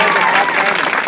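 Loud, dense applause from a crowd at a Hanuman temple inauguration in Rajapur Bazar, Sultanpur, a steady wash of clapping filling the whole moment.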